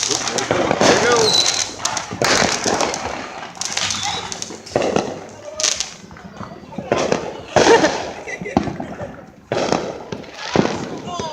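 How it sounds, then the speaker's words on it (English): Fireworks go off in a city on the Fourth of July, with repeated sharp bangs and crackling bursts at irregular intervals, some near and loud, while people talk throughout. "I like how fireworks are supposed to be illegal in the city."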